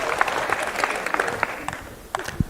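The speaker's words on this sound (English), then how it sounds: "But we need a stronger clap for that because this is amazing." Audience applause at a youth empowerment summit, a steady spread of clapping from a crowd that holds for a couple of seconds, with a few louder claps near the end.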